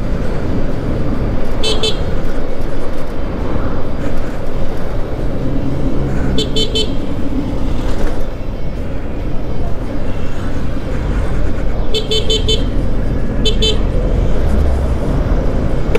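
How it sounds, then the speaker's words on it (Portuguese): Three short bursts of honking from the horn of a Shineray Black Hawk electric vehicle, spaced several seconds apart, over a constant loud engine and road rumble. "Pode prestar atenção que eu uso bastante a buzina, tá?"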